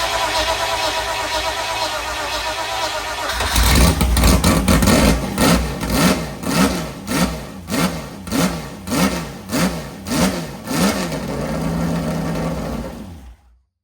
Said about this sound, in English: I think the exhaust is going to sound lovely